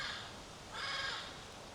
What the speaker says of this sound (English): Yeah, all the birds is coming out. Now we got other birds.